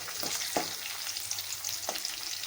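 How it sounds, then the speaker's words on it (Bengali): Garlic sizzles in hot oil in a pan while cauliflower mash is being cooked, a steady close frying hiss broken by a few stirring scrapes. "এবার আমি রসুনটা দিয়ে দেবো মাঝখানে"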